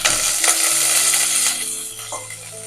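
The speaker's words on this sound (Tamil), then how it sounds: "இப்போ இந்த பக்கம் பேன்ல வந்து நல்லெண்ணெய் விட்டுருக்கேன். அது நல்லா காஞ்சிருக்கு. தாளிக்க வேண்டியதை தாளிச்சிடலாம்." Mustard seeds, fenugreek and curry leaves dropped into hot sesame oil in a pan, giving a loud hissing sizzle with crackling pops that fades down after about a second and a half.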